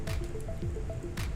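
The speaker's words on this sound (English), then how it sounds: "You knocked down your Mountain Dew." A can of Mountain Dew is knocked over and spills, giving a few wet, squishy drips and splashes against a low background rumble, with a faint clatter near the end.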